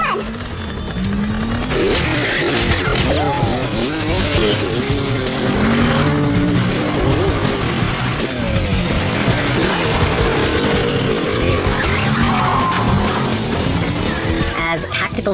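Motorcycle chase in a TV action drama, with roaring engines, rising and falling revs and squealing, skidding tires in a loud continuous mix, a few voices briefly heard.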